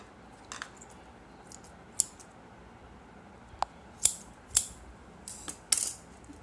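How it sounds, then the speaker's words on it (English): Scissors cut yarn while a friendship band is made, a handful of sharp, isolated close snips spaced irregularly over a quiet background, with no talking. "Next, you have to cut here in the same, exactly the same as on this end."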